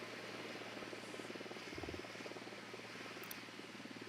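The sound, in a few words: surveillance drone flying in Ghost Recon Wildlands video game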